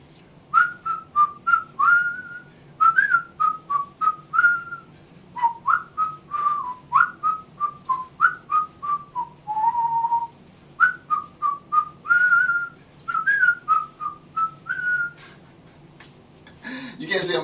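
A person whistles a lively tune in a lecture setting, a steady run of short, bright, bouncing notes with brief pauses, close and clear, ending with a sharp burst of noise.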